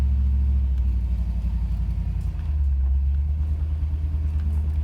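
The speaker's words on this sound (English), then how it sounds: "I do have true dual exhaust, but I have stock Mustang mufflers added to it" A Chevrolet S10 truck with a TBI 5.7 V8, true dual exhaust and stock Mustang mufflers rumbles at a steady, deep idle nearby, loud and continuous, with a slight dip in the middle.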